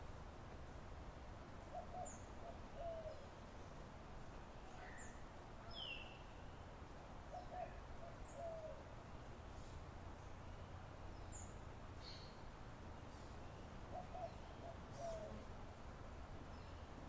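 Outdoor birds call in short, repeated phrases at a distance, with faint chirps spaced out over a steady background hiss during a quiet meditation setting.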